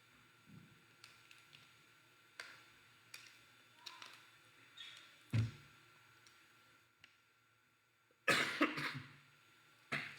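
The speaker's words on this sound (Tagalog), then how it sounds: "Medyo na tayo ubo gamay." A speaker pauses during a Cebuano-language Bible teaching to cough several times, short throaty bursts spaced across a quiet room, with the loudest and longest cough coming near the end.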